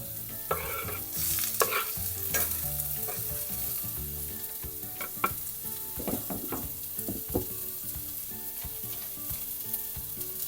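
Drained rice stirred with onion and garlic in a hot pot, sizzling and frying while a spoon scrapes and turns it in irregular close strokes, with no talking.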